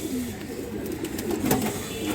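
Bagha pigeons cooing softly in a loft, a low murmuring coo that carries on steadily under faint background noise for the whole short stretch.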